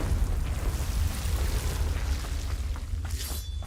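Confringo blasting spell going off in Hogwarts Legacy: a dense, sustained rumbling boom with crackling debris, loud and close, with no talking.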